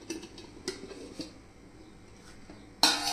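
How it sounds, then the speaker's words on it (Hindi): A spoon stirs soaked henna in an iron wok, giving a few light metallic scrapes and clinks, fairly faint, ending in a sharper louder clatter. "इसको एक बार हम चम्मच घुमा देते हैं।"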